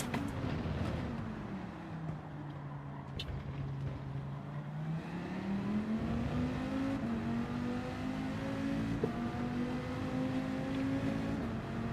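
A race car engine in Gran Turismo 7, revving high through the gears with a sweeping pitch that drops, then climbs and holds a sustained whine, loud and continuous with no talk.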